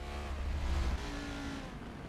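A race car engine in a GT racing video game drones steadily at a distance, a constant low roar with a slight swell partway through, with no voices over it.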